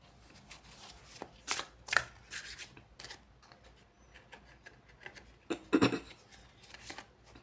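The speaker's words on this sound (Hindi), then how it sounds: "यहाँ शफलिंग आपके सामने ही की जाती है" Tarot cards being shuffled by hand, with soft riffling and rubbing and a few sharper card snaps, quiet and close with no talking.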